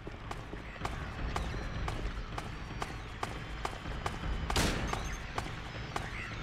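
Gunfire pops repeatedly at a steady rhythm in the video game Silent Hill 2, fairly faint over a dense, rumbling game soundscape, with one brighter, louder impact near the end.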